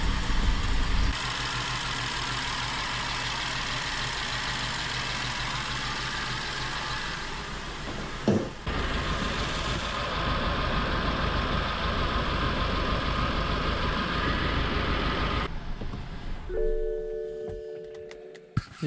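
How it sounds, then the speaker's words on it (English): A BMW car engine runs roughly at close range, a steady uneven idle with a knocking, rumbling texture, then a sharp clunk and a change in tone near the end. "And yes, the engine runs. It doesn't run very well"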